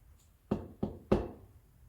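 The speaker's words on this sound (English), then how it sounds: "Knock it off straight away and run a blank shot." A used coffee puck is knocked out of a Breville Barista Pro portafilter with three sharp, hollow thuds against a knock box, the last one loudest, heard close up with no talking.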